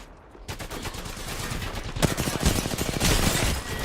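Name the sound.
gunfire and headshots in a video game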